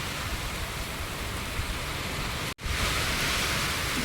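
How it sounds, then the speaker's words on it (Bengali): Heavy rain pounding on an asbestos roof, a dense, loud, continuous hiss with a very brief dropout midway before resuming at full strength. "আর অ্যাজবেস্টারের চালে যখন বৃষ্টি পড়ে কি আওয়াজ হয়, নিজেদের কথা নিজেরা শুনতে পাই না।"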